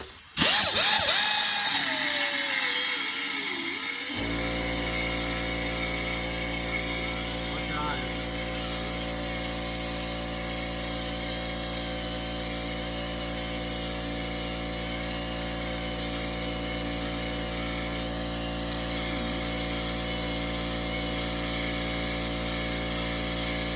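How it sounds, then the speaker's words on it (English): An angle grinder cutting through KX100 motorcycle engine cases, a loud sustained high whine that holds steady for the whole stretch after a short start-up, with no break in the cut. "I might have to get the bigger grinder for this one."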